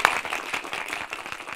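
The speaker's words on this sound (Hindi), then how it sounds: "क्या बात है, तालियों भाई, तालियां।" Applause from a small gathering at a shop opening, a brief burst of quick, uneven hand claps, close and moderately loud, heard alone.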